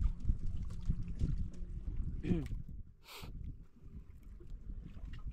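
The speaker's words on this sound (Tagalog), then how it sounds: "Hangin na naman." Gusty wind buffets the microphone in a low rumble, with voices talking over it outdoors, apparently on open water.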